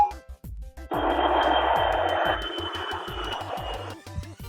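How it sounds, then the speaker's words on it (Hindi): An airplane passes overhead with a loud, steady roar that holds for about three seconds, then thins and fades, set over a soft rhythmic backing beat. "ये आवाज हवाई जहाज की है।"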